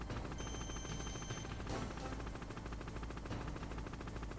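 In the Metal Gear Solid video game, a helicopter's rotor thrums steadily and continuously while rapid machine-gun fire rattles in bursts over it, with no talking.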